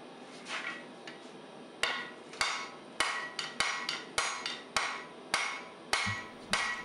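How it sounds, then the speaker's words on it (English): Rapid, evenly spaced hammer blows ring out as wrought iron and steel are forged on an anvil, sharp metallic strikes about every half second, close and clear with no talk. "You'll notice that my blows are quite rapid and even, and I'm working from one end to the other."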